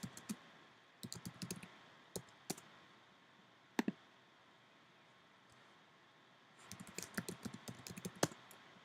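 Answers being typed on a computer keyboard in a quiet room, short bursts of close key clicks separated by pauses, with a longer flurry of keystrokes near the end.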